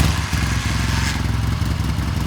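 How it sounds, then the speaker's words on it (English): A 1979 Triumph Bonneville 750 motorcycle catches on a kick start with a dull thud, then settles straight into a steady, loud, close-up engine rumble that runs throughout. "Let's see if she starts first kick"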